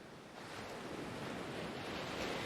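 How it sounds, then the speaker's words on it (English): Ocean surf rolling in a steady, close wash of broadband noise, swelling slightly toward the end with no voices over it. "Let the waves hold you."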